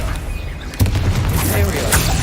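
Spell explosions from a Harry Potter video game rumble and crackle, with a heavy boom landing partway through and blasts continuing under a player's excited voice.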